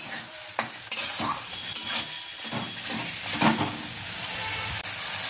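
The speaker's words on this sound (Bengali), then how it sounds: "আমি কিন্তু পেঁয়াজের যে জুসটা আছে ওটা দিয়েই কিন্তু আমি মশলাটা পুরো কষাবো" Spice paste fries with onion juice for a duck egg curry, a close, steady sizzle broken by repeated scrapes and clinks of a spoon stirring in the pan.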